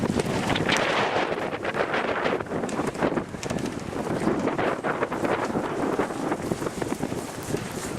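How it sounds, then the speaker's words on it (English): Strong wind of about 40 mph whips over snow the day after a blizzard, a loud, steady roar with heavy buffeting that fills the whole stretch without let-up or voices. "except for the fucking 40 miles an hour wind keep whipping up"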